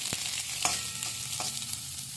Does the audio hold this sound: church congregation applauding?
no